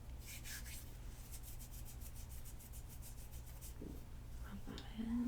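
Fingers rub and pat a facial product into skin during a soft close-up facial, a rhythmic series of gentle, brushing strokes heard very near and quiet, ending with a few light taps.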